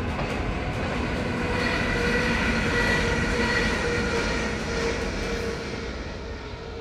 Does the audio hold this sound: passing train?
yes